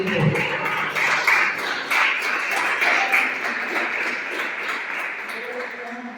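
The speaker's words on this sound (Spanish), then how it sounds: "Danos una ofrenda de palmas al Rey bendito." A church congregation gives a sustained round of applause during a worship service, dense steady clapping lasting throughout with voices mixed in.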